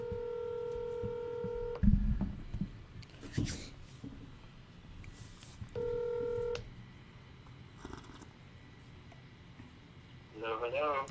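A telephone dials out during a live stream, with bursts of touch-tone beeps, a few clunks and handling noises, and soft ringing near the end under a faint room murmur.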